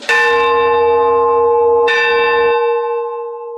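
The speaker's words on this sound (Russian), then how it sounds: "Такой звон частый, дольше, дальше слышно" A large church bell in Volgograd struck twice, each loud clang followed by a long, shimmering ring that slowly fades.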